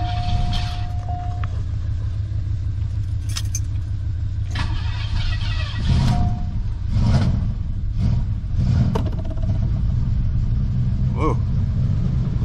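A car with 135,000 miles cranks and fires up roughly, with a surging, uneven burst of engine noise before it settles into a rumbling idle, close and fairly loud.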